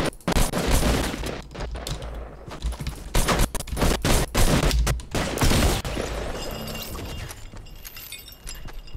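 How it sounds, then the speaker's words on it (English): Shotgun blasts and other gunfire from a Fortnite match, a loud, dense volley of repeated shots with sharp bursts through the first half, thinning into scattered pops with no talk over them. "He's got a shotgun now."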